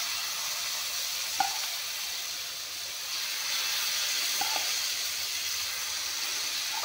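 Chickpeas and mung beans fry in a pan, giving a steady broadband sizzle and hiss that holds through the whole clip, with two faint clinks from the pan along the way and no talking.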